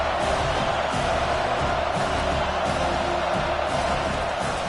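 A home crowd at a football game roars in a steady, dense wall of noise as the defense tries to get off the field on third down, loud and continuous with no clear talk.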